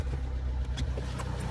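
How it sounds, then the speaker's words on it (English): A vehicle engine turns over and settles into a steady low idle, running continuously and close by, used to power a DC-DC charger. "So let me turn on the engine."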